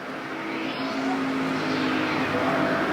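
Factory stock race cars run a heat race at Perris Auto Speedway: a continuous engine roar from the pack at middle distance, swelling slightly louder, with no talk.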